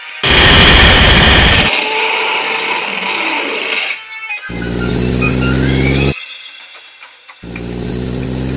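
Gunfire in a tense vehicle-chase battle scene, loud bursts of rapid machine-gun fire mixed with engine roar and crashing noise, cutting abruptly between dense chaotic sections and short gaps.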